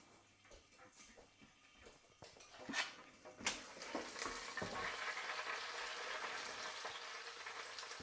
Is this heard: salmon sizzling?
yes